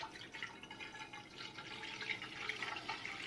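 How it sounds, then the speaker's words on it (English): Milk pours steadily into a pot on a kitchen stove, a soft continuous liquid splash with faint dripping, close by and with no talking. "You get your pot and then just pour your milk into it."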